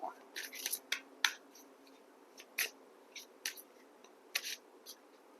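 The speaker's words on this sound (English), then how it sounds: "Let's shuffle some more." Tarot cards are shuffled in a series of short crisp riffling bursts with brief pauses, close and fairly quiet, with no speech over them.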